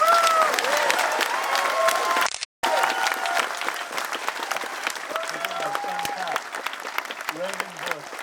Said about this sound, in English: Give a big round of applause to the senators.